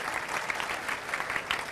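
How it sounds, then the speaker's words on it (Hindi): Audience applause welcomes a guest at a class event, a brief burst of steady clapping from a moderate-sized group, fairly close and even throughout. "एक बार तालियों से स्वागत करो"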